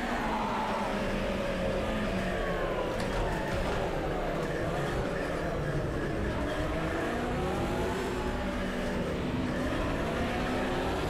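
Race car engine in the Project Cars 2 sim racing game, a steady droning whine that rises and falls with gear changes and throttle, heard continuously at moderate level with a low rumbling undertone.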